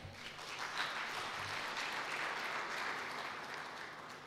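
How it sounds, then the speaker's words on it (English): An audience at a high-level anti-corruption dialogue event applauds steadily, a dense, even wash of clapping that holds at moderate volume from start to finish without voices over it. "Let's give him a very big round of applause."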